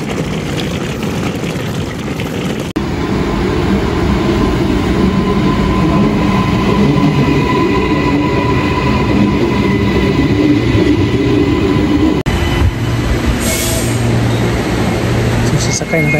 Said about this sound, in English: So, sasakay na tayo ng airport train